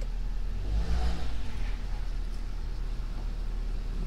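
A 2009 Kia Sportage engine hums and revs as the SUV pulls away on a drive, a steady mid-pitched drone under low road rumble, with no talking.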